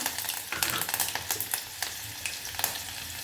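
Cumin, garlic and curry leaves sizzle and spit in hot oil with mustard seeds, a dense close frying hiss broken by sharp crackling pops and some stirring.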